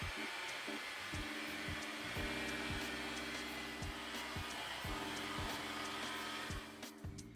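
Chocolate frosting with cocoa and cooled melted chocolate being beaten with an electric mixer, a steady droning whir that holds nearly constant and fades slightly near the end, close and moderately quiet, no talking.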